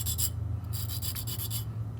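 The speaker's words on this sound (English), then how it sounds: "we can use our sanding stick once that's done and just kind of give it a once over" Close, steady scratchy rasping of a sanding stick rubbed back and forth over a small metal miniature, with a low hum underneath.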